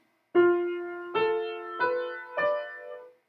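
Four notes of a half-diminished seventh chord in second inversion played one after another on a keyboard, each ringing and fading, building up the chord.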